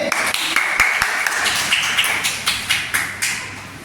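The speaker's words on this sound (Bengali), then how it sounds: "ভেরি গুড, হাততালি দে সব, হাততালি।" Primary schoolchildren clap their hands in a classroom, a loose scattering of sharp claps that turns into a few louder, separate claps toward the end, fairly close and mostly free of talk.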